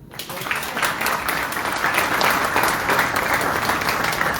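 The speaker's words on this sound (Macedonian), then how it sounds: "Може ли еден аплауз?" An audience applauds at an event naming Probištip's best athlete of 2023, with clapping that starts abruptly and swells into a loud, sustained, even patter from many hands.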